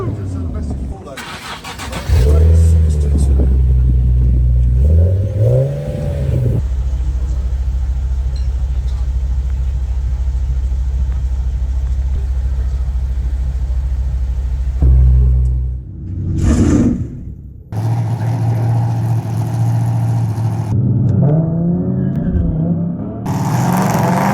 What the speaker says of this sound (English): Give us a rev!